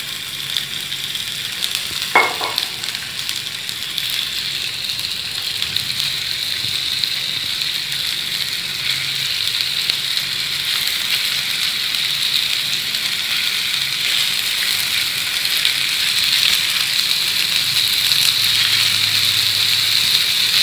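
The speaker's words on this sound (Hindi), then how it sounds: "दरमियानी आंच पर इनको फ्राई करना है," Beef gola kababs frying in oil over medium heat, a steady, close hiss and crackle that carries on evenly throughout, with a single brief knock early on and no talking.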